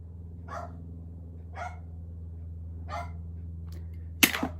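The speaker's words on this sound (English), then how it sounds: "What are you barking at?" A dog barks three times indoors at spaced intervals, moderately near, over a steady low hum, followed by a short sharp knock or clatter near the end.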